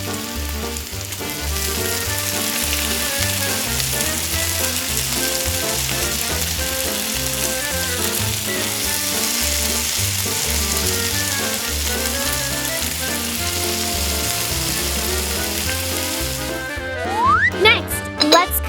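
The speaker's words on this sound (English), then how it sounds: "Fry the meat in a pan with oil." Meat fries in oil in a tiny miniature pan, a steady close sizzle that continues for a long stretch under backing music.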